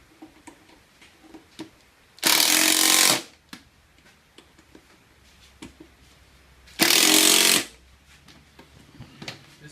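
Little Dragon continuous foam generator running in two loud steady bursts of about a second each, a broad hissing roar separated by quiet handling clicks.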